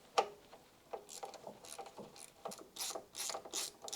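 Ratchet with a 14mm socket loosening a bolt through the window in the power steering pump of a Mk1 Mazda MX-5 Miata 1.6, giving a series of close, sharp clicks in uneven bursts, no talking.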